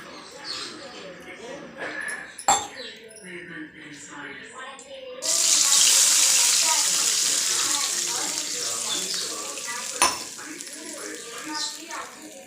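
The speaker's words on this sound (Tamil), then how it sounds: "இப்போ பார்த்தீங்கன்னா தண்ணி கொதிச்சிட்ருக்கு" Water in a pan bubbles and hisses steadily while cooking vermicelli, growing into a loud rushing boil midway, with a couple of sharp clinks and talk early on.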